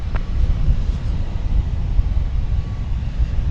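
A Delta Airbus A319 takes off from DFW Airport, bound for Salt Lake City. It makes a steady, distant, low roar that holds without a break.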